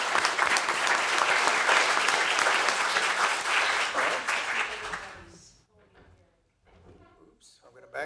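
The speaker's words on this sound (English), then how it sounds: "let's give everybody a big round of applause" Loud applause fills a city council meeting in Denison, Texas, a crowd clapping steadily for about five seconds before fading out, followed by people talking.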